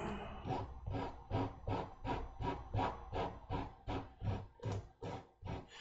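A bevel being shaped on a wooden part of a Microaces SE5a model aircraft kit, heard as a steady run of about fourteen close, rhythmic rasping strokes of sanding or filing, evenly paced, with no talking.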